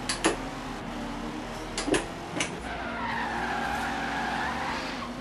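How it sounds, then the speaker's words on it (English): A Corvette drifts in Forza Horizon 3, its tires squealing through a long skid under a steady engine drone, with a few sharp ticks early on before the squeal swells and holds to the end. "Let's see if we can drift."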